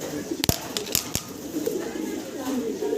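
A Mundian fancy pigeon coos softly in low, repeated murmurs, with a few sharp knocks and faint background chatter.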